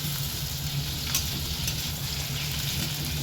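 Chopped tomatoes frying in a kadahi for a fish kadahi dish, a steady close sizzle with faint stirring scrapes throughout, no voices.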